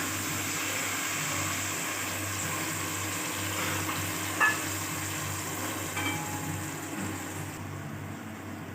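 Tamarind water hisses and sizzles in a hot pan, a continuous frying crackle with a brief splash partway through.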